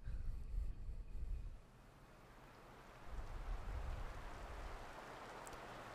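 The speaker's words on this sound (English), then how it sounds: "I wake to the sound of rain against my window" Steady rain against a window in a video game patters in a soft continuous wash, with low rumbling swells rising and falling underneath.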